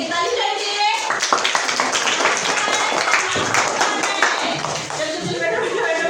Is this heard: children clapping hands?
yes